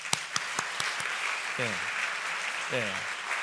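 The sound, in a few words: chapel congregation applauding worship volunteers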